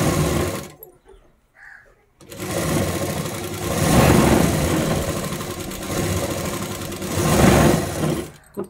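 An old-model sewing machine stitches a blouse in a steady mechanical whirr that runs in long loud bursts with a brief pause near the start, close and continuous.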